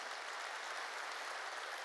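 A congregation claps during a New Year's Eve church service, a dense, steady wash of applause from many hands filling the room without pause and with no talking over it.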